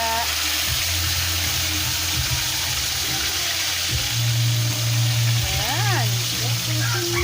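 Fish fries in boiling oil with a steady, close hiss and crackle that runs throughout, while a person talks over the sizzle.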